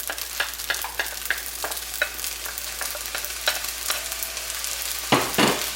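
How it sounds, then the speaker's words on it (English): Spaghetti sauce and rice mixed in a skillet, with wet scraping stir strokes repeating at an irregular rhythm over a low sizzle, close and clear, ending with a couple of louder clatters. "I'm going to add my spaghetti sauce into my skillet"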